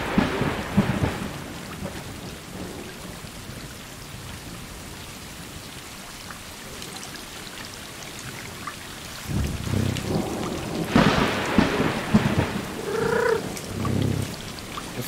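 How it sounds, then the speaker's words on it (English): Rain falls steadily in the game Stray while thunder rumbles, first faintly and then in louder, deep rolling claps near the end, with no voices heard. "Thunder is pretty loud."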